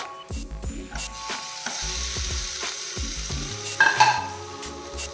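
Cut tomatoes sauté in a pan with a steady low sizzle, broken by scraping stirs and a brief louder burst of crackle near the end.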